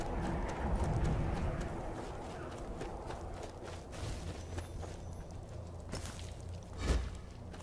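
Horses in the video game Maids 2 walk with a low, steady clip-clop of hooves and soft shuffling, a brief louder snort-like burst near the end, with no talk over it.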